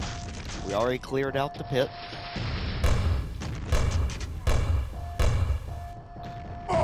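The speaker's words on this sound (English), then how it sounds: "So let's detonate all the zombies in this area." Zombies are blown apart by explosions in the video game Quake, giving several heavy, booming thuds and crashes spread over a few seconds while someone talks over them.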